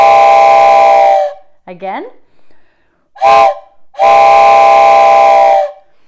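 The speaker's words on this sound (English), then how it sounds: "This is a train whistle." A wooden four-hole train whistle blown close up in two loud sustained chord blasts, with a short sharp toot and a brief spoken word between them.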